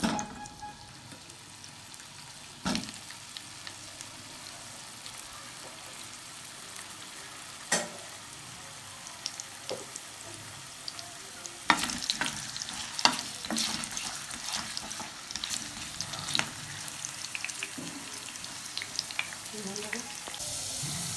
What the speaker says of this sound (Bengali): আলুগুলো আমার ভাজা হয়ে গেছে লাল করে